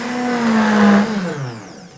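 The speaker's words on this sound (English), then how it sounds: "So a lid back on to the blender jug." A blender on high purées banana and chia seed pudding with fresh coconut: a loud, close motor whine that holds, then drops in pitch and fades over about two seconds.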